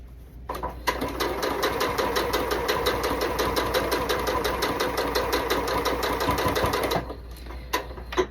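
A sewing machine stitches a quilt block seam with a fast, steady, close mechanical whir and clatter. The run lasts about six seconds, then stops, followed by a few brief clicks.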